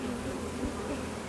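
Honeybees buzz around hives at a beekeeping farm in Gimpo, a steady close swarm drone with no voices over it.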